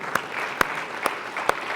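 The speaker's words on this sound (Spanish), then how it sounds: "démosle una vez más un fuerte aplauso al Señor." A church congregation applauding during an evangelism service, heard as a steady wash of clapping with four sharp, rhythmic louder claps spaced evenly across the short burst.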